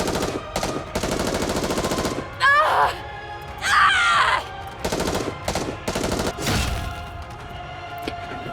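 Gunfire from Rapi's weapon in the Nikke game, a series of loud rapid automatic bursts with short gaps, mixed with heavy thuds and a shattering crunch.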